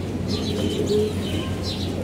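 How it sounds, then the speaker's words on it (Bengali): Pigeons of an old Baga breed coo softly and intermittently in a loft, the low calls blending with a steady background hum and faint bird chirps. "এই যে বাগা পুরান জাতের কবুতর"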